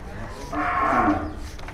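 A cow gives one drawn-out low moo at a crowded cattle market in Rajshahi. It swells and fades over about a second against a murmur of background crowd noise.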